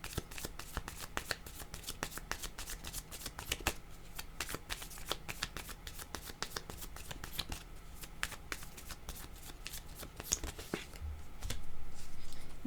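Tarot cards being shuffled and drawn, a steady rapid riffle of papery flicks close by and fairly soft, ending in a fuller rustle as cards are handled.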